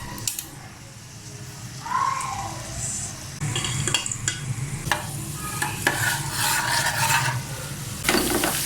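Ginger garlic paste frying in about two cups of hot oil at the start of a beef nihari, giving a steady close sizzle with spoon stirring and scraping against the pot throughout.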